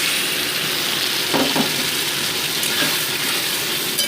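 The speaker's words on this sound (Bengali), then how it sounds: "এবার আমি মশলা পেস্টটা এর মধ্যে অ্যাড করে দিচ্ছি।" Spice paste of tomato, ginger, cumin and Kashmiri chilli fries with potatoes and onions in a pan, a continuous close sizzle with a brief stirring scrape midway.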